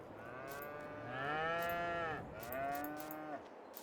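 Cows lowing in the farming game Farming Simulator 22, two long drawn-out moos one after another, fairly quiet against a soft background bed, with no talk.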